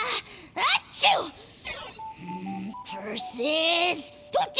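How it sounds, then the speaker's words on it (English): A single cartoonish sneeze bursts out in the Tribal Chronicles video game, set among voiced character lines with a gasping intake and pitched vocal sounds around it. "Achoo!"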